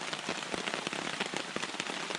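Rain falling steadily on a riverside canoe camp along the Manistee River in northern Michigan, a dense even patter of drops close by with no voices.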